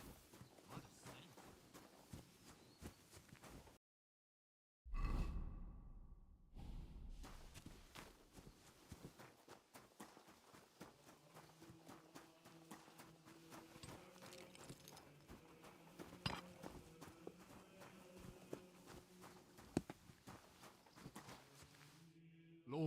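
Hooves of a horse walking at a steady clip-clop in Kingdom Come Deliverance II, moderately near with occasional mechanical clatter, pausing briefly into silence before resuming.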